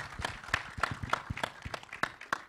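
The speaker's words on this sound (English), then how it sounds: "Huge round of applause for her" Scattered clapping from a small audience at a film trailer launch event, with sharp separate claps arriving in a loose, uneven rhythm at moderate volume and no continuous roar.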